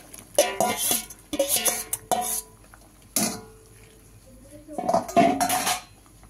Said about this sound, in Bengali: এবার দিয়ে দেবো ফের ঢাকা